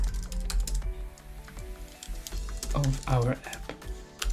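Typing on a computer keyboard while writing Go code, with rapid irregular key clicks running throughout under a man's speech.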